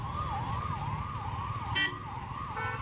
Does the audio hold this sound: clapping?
no